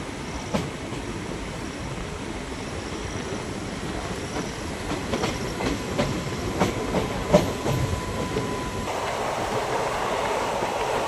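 A train gathers speed across Pamban Bridge near Rameswaram, a loud continuous rumble of wheels with rhythmic clicks and clunks, heard close from on board with no talk.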